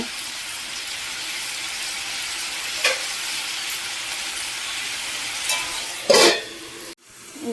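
Bell peppers fry in oil in a pan for a home-style palya, a soft steady sizzle running throughout with a few sharp stirring scrapes and clinks near the end.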